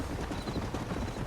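Horses trotting in the Red Dead Redemption video game, a brief, dense patter of hoofbeats under a steady ambient wash.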